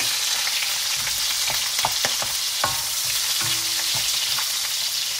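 Garlic frying in hot oil in a wok for pancit, a strong continuous sizzle with several clanking strokes of a utensil stirring through it, close and loud, no voices.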